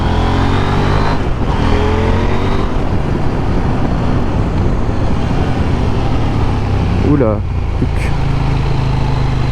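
KTM 890 Duke R motorcycle, a 2021 model, engine droning steadily while riding gently on a road, with shifting pitch and wind rush, loud and close, briefly under a short spoken exclamation.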